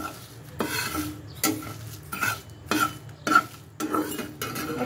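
Coriander seeds and dried chillies dry-roasted in a pan, heard as a series of rhythmic rattling scrapes as they are stirred and tossed, each burst separated by short quieter gaps, close and without talk.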